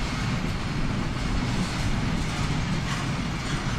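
Heavy-duty CSX freight cars on double trucks roll past close by, a dense continuous rumble and rattle of wheels on rail with no voices.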